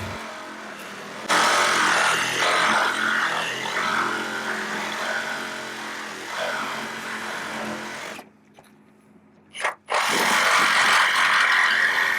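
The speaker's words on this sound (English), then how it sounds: "you can use a reciprocating saw to complete the cut" A reciprocating saw cuts through the A-post of an overturned car during a vehicle extrication, a loud, steady buzzing drone that runs for several seconds, cuts out briefly, then starts again.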